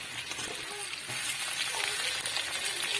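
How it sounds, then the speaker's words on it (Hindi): Onion frying in hot oil in a pan gives a steady, moderately loud crackling sizzle that runs unbroken for a few seconds, with no voices. "और हम डालेंगे इसमें प्याज"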